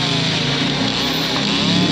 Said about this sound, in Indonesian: Ini sekali kena gergaji mesinnya langsung